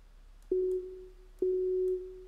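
A synthesized instrument sample run through a master reverb effect: two sustained mid-pitched tones, each starting with a soft click, holding steadily, then fading into a short reverberant tail over quiet background.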